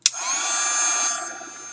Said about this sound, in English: So I'll go ahead and dry this with my heat gun